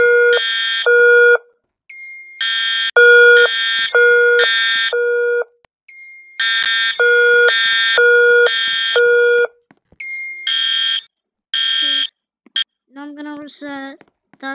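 Fire alarm blaring during a drill, a loud electronic tone repeating in bursts of three-pulse patterns with brief gaps, then shifting to faster chirping beeps near the end, close and dominant.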